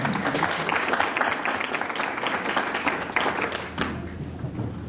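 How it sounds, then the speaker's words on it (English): An audience claps steadily to welcome a speaker at a business event, a full round of applause that tapers off near the end, with no speech over it. "Let's give him a big round of applause"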